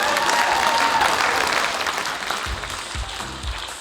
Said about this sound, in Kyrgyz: Бир кол чаап койгула